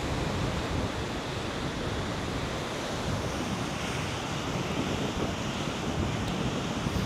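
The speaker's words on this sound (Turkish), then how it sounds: "Oldukça rüzgarlı." A steady, continuous roar of wind sweeping across open water at Pattaya, with surf rumbling beneath and buffeting against the microphone; no voices.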